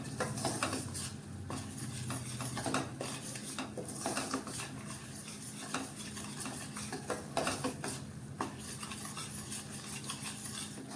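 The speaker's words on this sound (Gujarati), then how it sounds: "ગેસ ઉપર સુખડી માટેનો લોટ પણ શેકાઈ રહ્યો છે જુઓ લોટમાંથી ઘી પણ છૂટું પડી રહ્યું છે" Flour roasting in ghee in a pan for Gujarati sukhdi, a spoon scraping and clinking against the metal pan in a steady stirring rhythm over a faint low sizzle, no voices.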